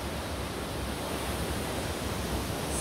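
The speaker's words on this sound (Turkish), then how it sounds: "Sonunda Ilıca Şelalesi'ndeyiz." Ilıca Waterfall in Kastamonu, Turkey, a steady, broad rushing roar of falling water that stays even and fairly soft for the whole short stretch, with no voices.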